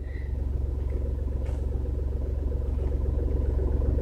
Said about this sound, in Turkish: Şu an aracı çalışır konumda tutuyorum.